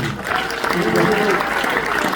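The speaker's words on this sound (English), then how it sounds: "A big round of applause." Audience applause fills a stand-up comedy show in a brief, steady burst of dense clapping, with a voice speaking over it.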